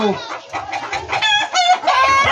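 A pullet hen clucks and squawks before laying an egg, a close, loud run of throaty, uneven calls lasting a couple of seconds.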